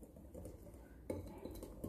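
A spoon works flour and milk into a paste in a bowl, giving soft scraping swirls broken by a few light clinks against the bowl, close and quiet with no talking.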